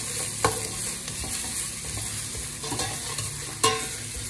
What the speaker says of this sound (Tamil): நல்ல பெரிய வெங்காயம் இந்த பச்சை மிளகாய் ஒரு 5 நல்லா பொன்னிறம் ஆகிற வரைக்கும் நல்லா வதக்கணும்